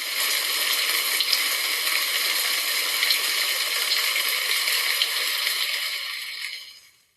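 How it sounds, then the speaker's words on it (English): Rain pours in a dense, steady hiss of countless drops, loud and unbroken, before fading out at the end. "The rain."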